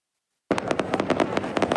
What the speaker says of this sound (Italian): I fuochi d'artificio hanno chiuso la notte del 402esimo festino di Santa Rosalia.